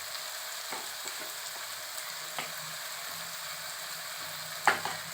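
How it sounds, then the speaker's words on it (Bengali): Spice paste of cumin, coriander and Kashmiri chili powder frying in oil for a fish curry, a steady soft sizzle with occasional light scrapes of stirring and one sharper clink near the end, no talking. "তেলটা যতক্ষণ না ছাড়বে ততক্ষণ আমাকে এটা কষে যেতে হবে"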